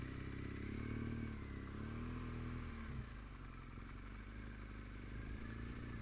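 BMW R1200GS motorcycle riding across a dam beside a large reservoir, its engine a steady close rumble with a slight drop in pitch and level partway through, continuing evenly to the end.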